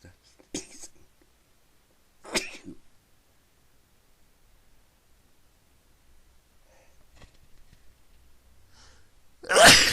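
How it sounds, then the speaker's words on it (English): Several sharp sneezes burst out one after another with quiet gaps between them, close and loud, the last one the strongest. "So now I can't stop sneezing."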